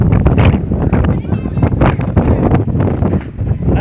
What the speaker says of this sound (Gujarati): પવન એટલો આવે છે